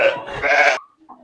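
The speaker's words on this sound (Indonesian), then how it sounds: "Domba." A sheep gives a loud, close, wavering bleat lasting under a second, followed by a couple of faint short sounds.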